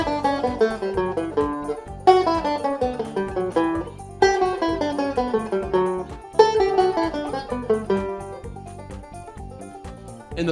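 Banjo playing a nine-note scale exercise in reverse, crisp plucked notes descending in repeated runs, each run opening with a strong accent and stepping down steadily, close-miked and unaccompanied.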